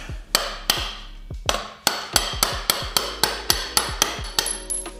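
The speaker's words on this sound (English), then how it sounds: "Got a hammer and a punch" A steady series of sharp metallic hammer-and-punch strikes on a Harley Sportster part, about a dozen evenly spaced blows ringing close up, with no talking.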